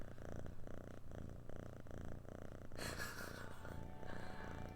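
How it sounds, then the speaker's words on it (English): A cat purring in a Barbie princess video game, a steady rhythmic rumbling purr with regular breath cycles, close and fairly loud, followed by a brighter game sound effect. "Oh, listen to that purr."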